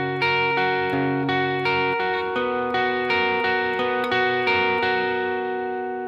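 Clean guitar picks out the pre-chorus of a song in two repeating picking patterns, with steady rhythmic plucked notes ringing close and clear and nobody talking.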